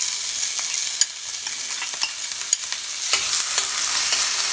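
Thinly sliced onion fries in oil in a pan, giving a close, steady sizzle with occasional stirring clicks and scrapes and no talking.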